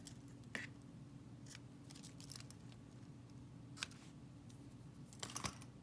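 Scissors snip the loose ends of a knotted ribbon scarf on a handmade Christmas gift card holder, a few short crisp cuts spread out over quiet background noise, with a brief double snip near the end.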